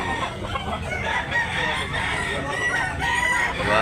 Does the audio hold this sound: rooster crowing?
yes